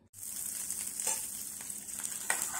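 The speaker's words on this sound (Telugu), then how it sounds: "ఈ పచ్చడికి ఇప్పుడు మనం పోపు పెట్టాలండి." Hot oil sizzles steadily while a tempering for drumstick leaves chutney fries in a small pan, a continuous close crackling hiss with a few brighter pops and no talk.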